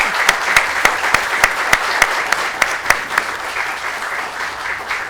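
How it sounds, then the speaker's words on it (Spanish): An audience at a televised political program claps steadily for about five seconds, a full sustained round of applause with a few sharp individual claps standing out near the front. "la bienvenida a esta propuesta con un fuerte aplauso"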